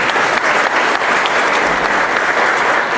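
Loud, dense applause from a crowd at a book presentation in Tecámac, honoring a local councilman, continuous and even throughout with no speech over it.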